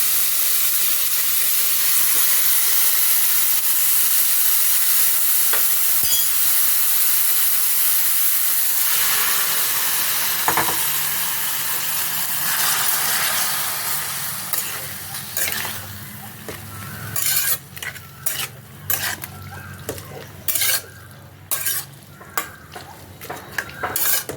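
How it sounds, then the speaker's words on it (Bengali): Pumpkin greens hit hot tempering oil in a pan, giving a loud steady sizzle and hiss, then the frying breaks up into scraping, clattering stirring strokes as the greens are turned. "ফোড়নটা হয়ে গেছে, ফোড়নে দিয়ে দিলাম"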